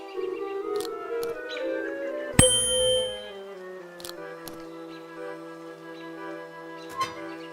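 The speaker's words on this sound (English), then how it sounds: "There must be another way to make the bell ring." A bell rings once in the Willy Morgan and the Curse of Bone Town adventure game, a sharp bright strike that rings out over soft background game music, with faint ticks and clicks before and after.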